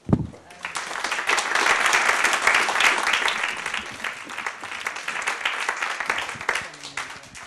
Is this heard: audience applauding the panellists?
yes